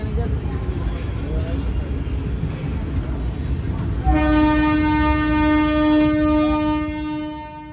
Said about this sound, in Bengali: ট্রেন ঢুকছে বারাণসী স্টেশনে